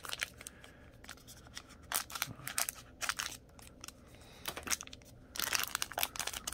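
Scissors snip and crinkle through the stiff plastic wrapping of a trading card pack close by, with irregular cuts, rustles and crackles and no talking.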